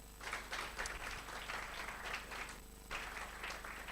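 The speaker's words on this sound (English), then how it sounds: "Éric Zemmour, on peut l'applaudir." Audience applause for a speaker introduced at a round-table conference, steady dense clapping throughout at moderate level with a brief dip near the end.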